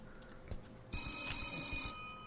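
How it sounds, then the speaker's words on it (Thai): A telephone rings in a horror video game, a sharp electronic trill that starts suddenly after faint thumps and keeps ringing steadily, then fades a little near the end. "มีโทรศัพท์มาด้วยฮะ"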